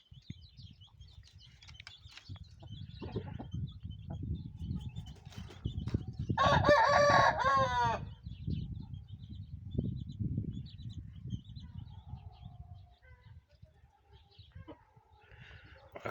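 A training rooster crows once mid-clip, a clear, harsh cock-a-doodle-doo lasting about two seconds over low background rumble and faint scattered clucks, fairly near.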